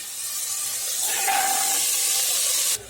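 Soaked chickpeas hit hot oil in a pan for a Tamil-style chickpea curry, giving a steady loud broadband sizzle that runs for almost three seconds before cutting off abruptly.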